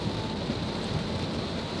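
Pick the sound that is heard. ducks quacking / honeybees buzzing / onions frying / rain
rain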